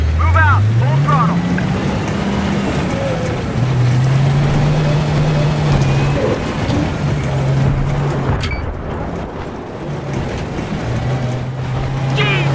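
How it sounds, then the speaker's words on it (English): A tank in the Battlefield 3 video game drives at full throttle, its engine a loud, steady low drone rising and shifting in pitch, with a radio voice chattering briefly over it. "Driver, move out! Full throttle!"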